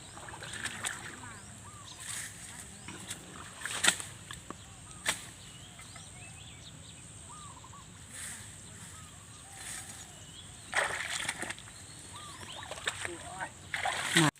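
Water splashes now and then as fishing gear is hauled up out of water in a rice paddy, a few short louder bursts standing out over a steady outdoor background with faint birds.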